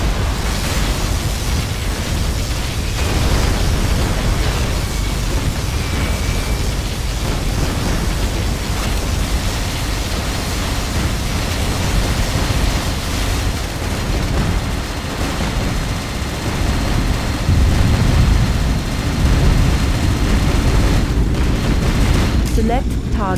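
Dense, continuous battle din from the Command & Conquer Generals skirmish as the particle cannon fires, with rumbling booms and explosions layered over gunfire and a steady roar throughout.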